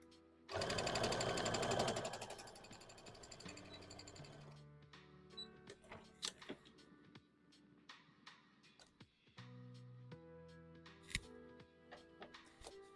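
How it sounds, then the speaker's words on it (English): A sewing machine stitches a plushie body in a fast, loud burst of steady mechanical clatter. Quieter clicks, knocks and fabric handling follow as the work is repositioned, and a shorter run of stitching comes later. "That should be plenty of time to get this body sewn up"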